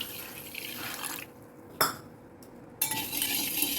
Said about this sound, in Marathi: यात पाणी घालून फेटून घ्यायचे